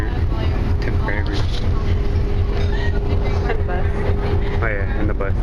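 Passenger train ride with steady rail clatter and rumbling wagon noise, continuous and close, with voices and cabin sounds mixed in.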